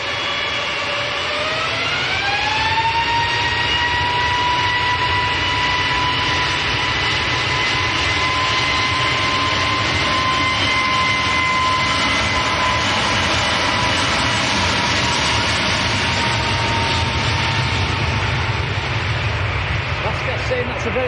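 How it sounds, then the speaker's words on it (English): Swiss jet airliner taxiing at Manchester Airport, a loud, sustained jet engine whine rising in pitch early on and then holding steady, with a low rumble underneath; talk may be mixed in. "We're going to get a nice view of the Swiss as it taxis forward in a minute, right in front of us"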